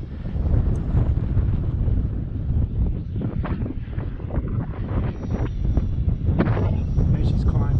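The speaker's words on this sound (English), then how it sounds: "See the wind shaking her around, man." Strong wind gusts roar steadily against the microphone while an E-flite F-16 Thunderbird RC model jet flies in gusty conditions, with someone talking excitedly over the rumble.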